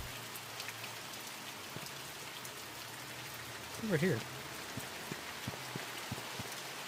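Steady rain in the horror game The Mortuary Assistant, a soft continuous patter with scattered drip ticks, faint and even throughout, with a brief spoken voice partway through.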